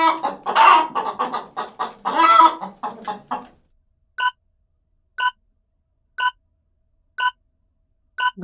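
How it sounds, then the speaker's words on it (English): A chicken clucks in five short, evenly spaced bursts about one second apart, each clear and alone, following a stretch of unrelated talking. "And the animal is a chicken."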